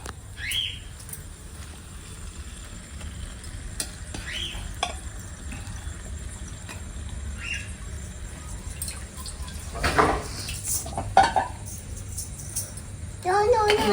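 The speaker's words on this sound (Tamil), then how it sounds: "நல்லா எண்ணெயிலே ஒரு கால் நல்லா வதங்கட்டும்" Chicken legs fry in oil with tomato in a village kitchen for a Chettinad chicken leg gravy. A low sizzle runs under sparse stirring scrapes and clanks, with voices talking intermittently nearby.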